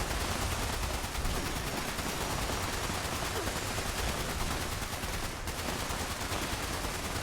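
Rapid automatic gunfire in Fallout 76 as players unload on a big boss, a dense, continuous barrage of overlapping shots that stays loud and unbroken throughout.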